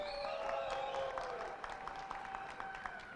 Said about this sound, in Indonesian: sekali lagi tepuk tangan yang meriah untuk kita semua.